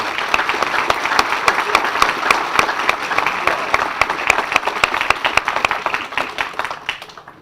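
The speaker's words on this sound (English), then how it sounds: "a nice round of applause for Amanda" Steady, dense applause from a crowd at a ribbon-cutting ceremony, many hands clapping at once, holding level before tapering off sharply at the end.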